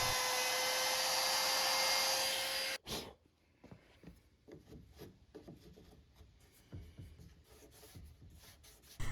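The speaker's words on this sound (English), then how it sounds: "I can just hog out the inside just by running the router back and forth" A wood router hogs out a door hinge mortise freehand, whining loud and steady for nearly three seconds, then falls silent, followed by softer rubbing and scraping of wood.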